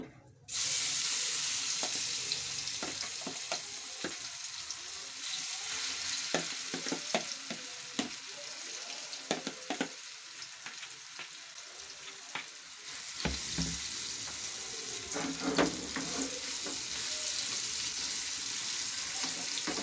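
Mashed potato and sweet potato frying in oil with cumin for gola kabab, a steady close sizzle with scattered stirring clicks and scrapes, surging louder toward the end as the mash is worked in.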